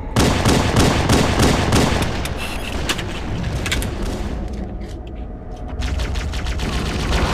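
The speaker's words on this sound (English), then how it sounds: "They're just like running around in a hail full of bullets and fire" Dense, continuous gunfire and explosions in the video game Halo 3, with rapid automatic bursts and booming blasts layered loud and close throughout, easing briefly before the barrage picks up again.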